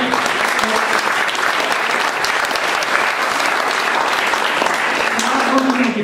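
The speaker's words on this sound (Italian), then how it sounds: "un applauso anche a lei" Sustained audience applause fills a poetry festival hall, steady and dense for the whole stretch, with many hands clapping at once and no pauses.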